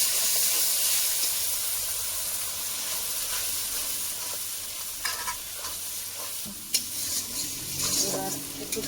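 Turmeric and chili spice masala fries with a steady loud sizzle and hiss in a pan, with a few scraping stirs and clinks near the end, no voices.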